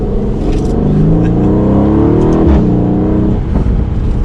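A 2020 Aston Martin Vantage sports car powers through a roundabout, its engine note rising and falling steadily under load, loud and close from inside the cabin with no talking.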